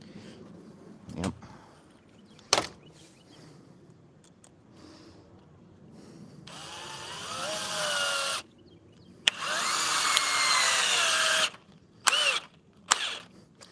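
A power drill whirs in two sustained bursts of several seconds each, its motor pitch shifting as it bores in, with a few sharp knocks and short clicks around them and no talking.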